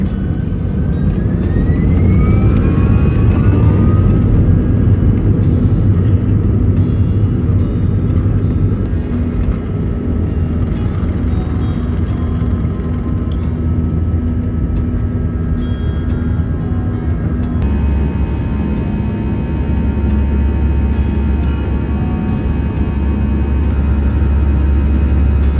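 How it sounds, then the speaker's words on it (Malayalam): An Air India passenger jet takes off from the runway, a loud, steady engine roar heard from close by that fills the whole stretch without pause and with no talking. "അപ്പോൾ എന്തായാലും നിങ്ങൾ ടേക്ക് ഓഫ് ഒന്ന് കണ്ടിട്ട് വാ."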